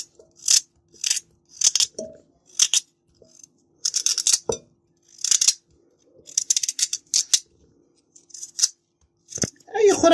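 A knife cuts potato into pieces against a board for a pureed yellow lentil soup, giving a steady series of sharp, close chops, roughly one or two a second, with a little talk between strokes.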